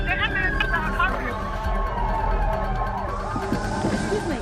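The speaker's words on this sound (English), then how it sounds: "The ambulances are coming." Approaching London ambulance sirens wail in rising and falling sweeps behind a busy scene of voices, footsteps and commotion, the sirens moderately loud and swelling toward the end.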